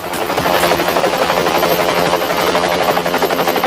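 A helicopter's rotor and engine drone steadily and loudly close by, with a fast rhythmic chop throughout and no talking.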